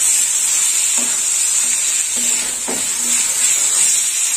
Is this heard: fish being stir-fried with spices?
yes